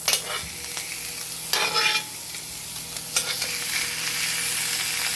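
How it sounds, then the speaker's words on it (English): Steaks sizzling on a hot copper grill pan, a steady broadband frying hiss with a few louder spits and bursts of crackle, close and continuous throughout, no voices. "Now the copper's hot. You can see it sizzling."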